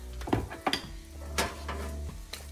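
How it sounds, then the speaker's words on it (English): A utensil stirs steak and vegetables seasoned with lemon pepper in a pan, with clinks and scrapes against the metal over a steady low sizzle, close and moderately loud. "And just stir it up"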